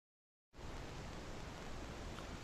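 Steady M-Noise test signal played through a sound system starts abruptly after a moment of silence and continues as a loud, even, broadband hiss to the end.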